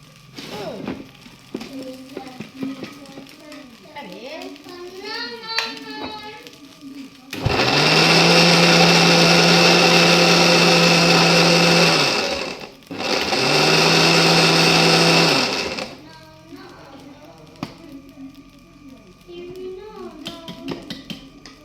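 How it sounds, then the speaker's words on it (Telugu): A mixer grinder whirs loudly through green chutney in two bursts of several seconds each with a short pause between, while a voice talks before and after. "పచ్చడి పచ్చడి పచ్చడి పచ్చడి మిక్స్ కొట్టేస్తే"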